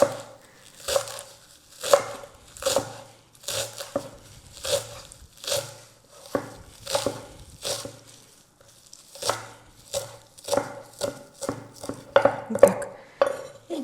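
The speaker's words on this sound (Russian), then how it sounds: "Мелко нарезаем и добавим в нашу начинку" Parsley and dill are finely chopped on a board for a sauerkraut tolma filling, giving steady rhythmic knife chops in bursts of quick strikes with short pauses, close and clear.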